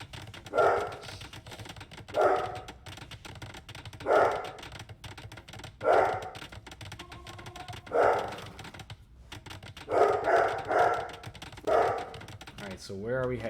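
A dog barking at fireworks outside, repeated bursts of loud barks every couple of seconds, heard indoors alongside keyboard typing and occasional background talk.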